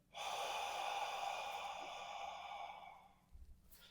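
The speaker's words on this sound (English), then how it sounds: "Breathe in, breathe out." A long, strong breath drawn in and pushed out, loud and close, tapering off, followed by a faint low thump.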